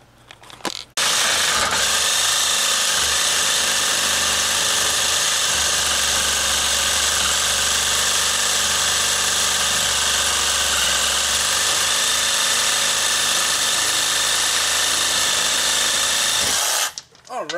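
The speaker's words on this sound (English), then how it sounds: "I don't care what brand of Sawzall you get, invest in good blades." A corded reciprocating saw cuts through a steel skid plate frame mount on a Jeep TJ, with a loud, continuous buzzing rasp that runs steadily for about fifteen seconds before stopping abruptly.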